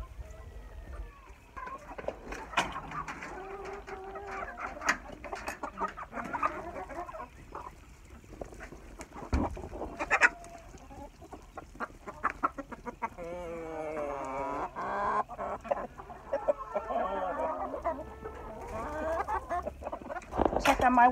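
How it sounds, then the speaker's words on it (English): Backyard hens and chickens cluck and murmur through morning chores, a broody hen among them, with a person talking to the birds and rustling around nearby throughout. "My one broody hen."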